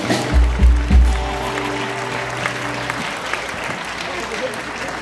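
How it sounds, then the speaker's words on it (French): Audience at an outdoor festival stage applauds in a loud burst, with a few heavy thumps in the first second and a sustained low tone underneath, then fading into scattered crowd noise as a voice begins talking. "Applaudissez Yannick."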